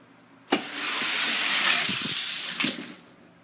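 Hot Wheels and Matchbox die-cast cars, including a Ferrari, race down a track: a sharp clack at release, then a steady rolling whir for about two seconds, ending in a second clack as they crash into cars at the bottom.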